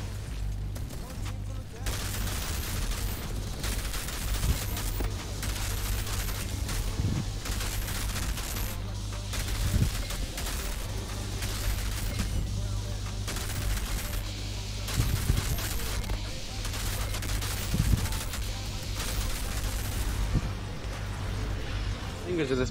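Constant automatic gunfire in Outriders during a co-op trials run, a dense rattle of shots with some heavier booms, loud throughout, while someone talks over parts of it.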